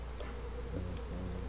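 Honeybees buzz softly at a hive frame during a varroa mite test, a faint continuous drone with no talking.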